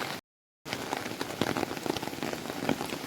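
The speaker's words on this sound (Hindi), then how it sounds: "और देखो बारिश।" Heavy rain pours down in a mountain village during the monsoon, a dense close patter of drops hitting surfaces that drops out briefly near the start and then returns steady and loud, with no voices.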